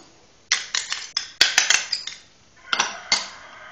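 A utensil stirs milk, sugar, flan powder and cornstarch in a pot or bowl, giving a series of sharp metallic clinks and scrapes that come in quick bursts, close by with no talking.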